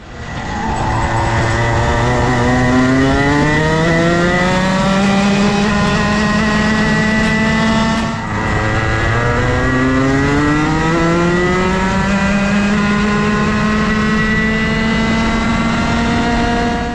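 A go-kart engine fitted with a 2024 cylinder revs hard on a track, loud and close, its pitch climbing steadily through the gears, dipping briefly, then rising again in a sustained high-pitched wail.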